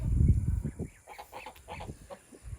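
Chickens clucking and murmuring close by, a short burst of soft, rising calls from several birds over low rustling.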